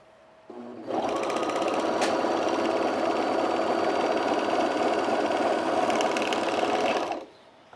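A sewing machine top stitches a sunblock top in one continuous run, a steady close-up mechanical whir that starts abruptly, holds for about six seconds and stops cleanly. No one speaks.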